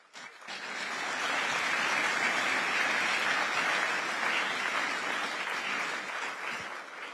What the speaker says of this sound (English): Shall we sustain the applause